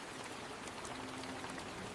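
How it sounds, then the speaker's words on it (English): Rain falls outside on a rainy day, a faint, even hiss of drops with no distinct rhythm and no voices. "It is raining today."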